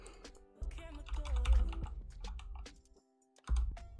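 A password being typed on a computer keyboard in quick bursts of clicky keystrokes, close up, with a brief pause between bursts and other sounds mixed in.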